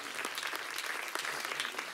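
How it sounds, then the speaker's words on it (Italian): Audience applause at the Ossola Guitar Festival, a steady wash of many hands clapping, quite faint and distant, continuing evenly without talk. "facciamo un altro applauso"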